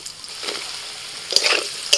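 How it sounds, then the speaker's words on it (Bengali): Potatoes and nigella seeds go into hot oil left over from frying mrigel fish, giving a soft steady sizzle with a few brief stirring scrapes and clinks near the end. "ওই তেলের মধ্যেই দিয়ে দিচ্ছি কালো জিরে,"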